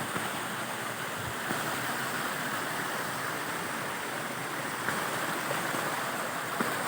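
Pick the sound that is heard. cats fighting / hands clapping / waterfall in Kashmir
waterfall in Kashmir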